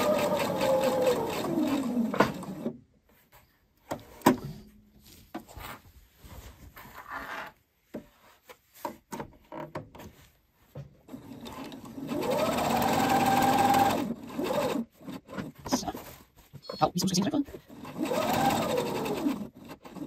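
A sewing machine stitches a homemade net, running in loud bursts of rapid mechanical whirring separated by short pauses, with the motor pitch rising and falling as each seam is sewn.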